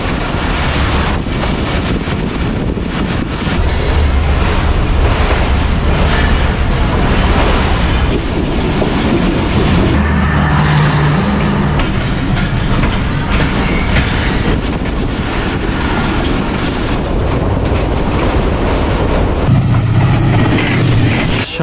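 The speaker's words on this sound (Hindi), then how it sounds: "28 down Shalimar express 20 minute late रवाना हो रही है।" The Shalimar Express passenger train running on rails, heard from on board with loud continuous rumble, rhythmic clickety-clack and wind noise throughout, no talk.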